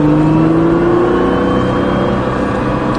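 A car accelerating hard during a drift ride, its engine note climbing steadily and loudly with a whirring drivetrain, close and with no talk.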